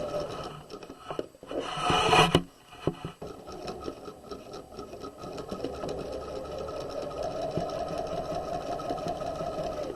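A sewing machine stitches the crotch seam of pajama pants at a 5/8 inch seam allowance, its fast, even motor hum running steadily after some fabric handling and rustling at the start.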